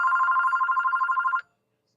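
A telephone rings for an incoming call, a close, steady electronic trill pulsing rapidly for about a second and a half before cutting off abruptly into silence.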